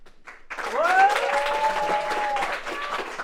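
A crowd at an award ceremony applauds a winner, with clapping joined by rising voices cheering and whooping over it, fairly loud and close for a few seconds.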